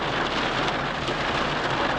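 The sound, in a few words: heavy rain falling on a car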